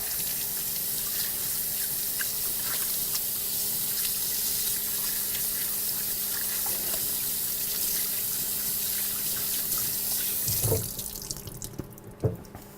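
Hands washed under a steadily running kitchen tap during pasta dough prep, a constant close water hiss that cuts off near the end, followed by a few faint drips and knocks.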